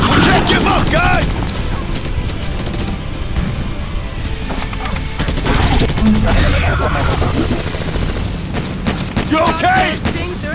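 Rapid video-game gunfire from Battle: Los Angeles, dense bursts and booms with crashes throughout, loud and continuous, with shouted voices mixed into the combat.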